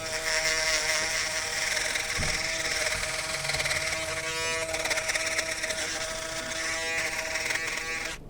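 An electric shaver buzzes steadily and close up throughout, a dense continuous whine with slight shifts in pitch as it passes over the skin, used to sharpen a skin taper during a fade haircut.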